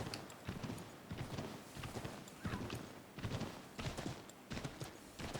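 Horse hooves clip-clop steadily in Assassin's Creed III Remastered, a rapid, even rhythm of close, fairly loud hoofbeats running through the whole stretch with no voices over them.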